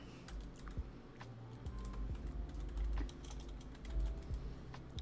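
Keys on a computer keyboard being typed in bursts by someone in a Cyclops visor cosplay, with uneven clicks over a low steady room hum and no talking.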